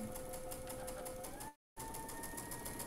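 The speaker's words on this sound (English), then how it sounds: "So we're just sewing on that marked line." A sewing machine stitches steadily along a marked line for a quilt row, its rapid, even needle rhythm close and clear, briefly stopping for a moment before running on again.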